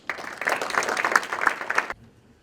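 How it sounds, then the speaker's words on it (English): An evening audience applauds to welcome an entrepreneur speaker to the stage, a short burst of many hands clapping that swells quickly, holds for under two seconds, then cuts off into near silence. "Let's give him a big round of applause."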